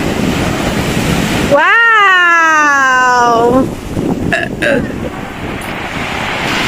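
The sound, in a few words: burp after eating spaghetti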